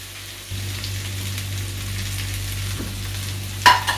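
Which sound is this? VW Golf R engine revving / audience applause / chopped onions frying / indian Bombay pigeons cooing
chopped onions frying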